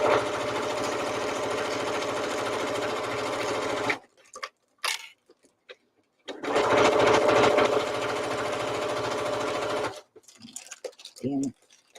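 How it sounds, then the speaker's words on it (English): A sewing machine stitches diagonally in loud, rapid bursts, running steadily, stopping, then running again, with quiet handling noises and brief talk in the pauses. "Here's where we're going to sew"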